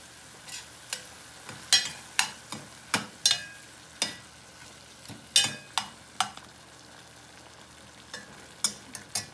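Ground pork giniling fries with ketchup in a pan, with a faint sizzle under repeated sharp scraping and stirring strokes from a utensil.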